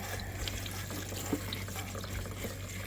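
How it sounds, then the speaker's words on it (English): Dandelion flowers rinsed under a water spray at a sink, a steady faint rushing and splashing of water with no talking. "just give them a good spray off here and then I'll lay them out on a towel to dry"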